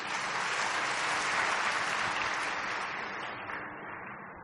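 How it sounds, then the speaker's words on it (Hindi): An audience at a spiritual talk applauds together, sustained steady clapping that slowly tapers off near the end, with no voices over it. "अपने लिए ताली बजाओ।"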